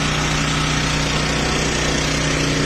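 A tanker truck engine runs steadily with a loud, continuous low rumble and vibration, close by and unbroken throughout.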